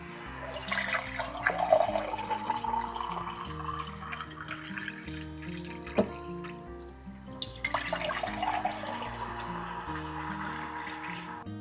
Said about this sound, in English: we're going to fill our jars up with some hot water so that they can get warming up before our jalapenos are ready.